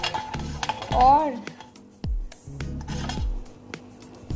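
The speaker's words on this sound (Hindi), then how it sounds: "अदरक पाउडर डाल के अच्छी तरह मिक्स कर लिया है" A spoon stirs and scrapes a dry spice mix of salt, cumin, carom seeds, chili flakes and ginger powder in a metal bowl for fried fish masala, with clinks and gritty rubbing strokes in uneven bursts, close and fairly loud.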